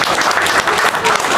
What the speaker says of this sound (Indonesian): tepuk tangan buat beliau.